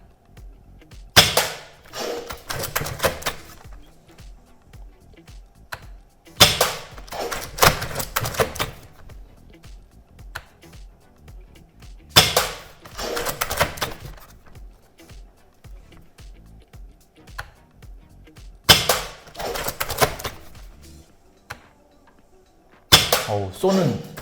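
An Academy AWM toy sniper rifle is cocked and fired again and again, each round a sharp snap with mechanical clacking, repeating roughly every six seconds, close to the recorder.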